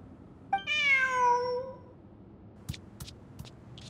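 A single drawn-out cat meow from a character in the Genshin Impact video game, close and clear, followed by a few faint clicks and taps, with no talking.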